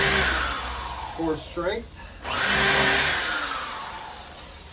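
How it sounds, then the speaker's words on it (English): Power drill driving screws into a pallet wood table, a loud high whirring that runs, pauses while someone speaks briefly, then spins up again and winds down. "I'll go ahead and give 4 screws from the outside perimeter"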